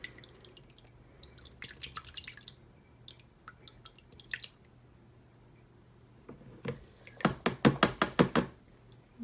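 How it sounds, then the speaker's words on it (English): Lye solution made with sea salt is poured into a soap batter containing colloidal oatmeal, giving soft liquid drips and splashes, then a quick run of sharper wet plops close by in a quiet room. "that's just getting that lye solution in there"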